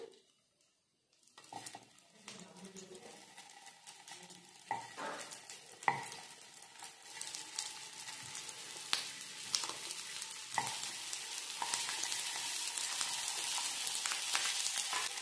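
Vrat appe cook in ghee in an appe pan, starting almost silent, then clinks and taps of batter going into the pan, followed by a soft sizzle that gradually builds and stays steady to the end.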